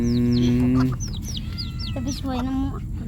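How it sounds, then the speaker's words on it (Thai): Chickens cluck and cheep close by, with rapid short calls and a sustained squawk over a steady low rumble. "ไก่เจ้าจักโตนี่ครับ"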